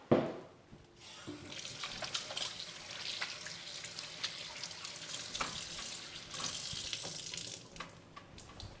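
Running tap water splashes steadily into a kitchen sink as food is washed under it, a continuous near hiss with small clatters and surges throughout.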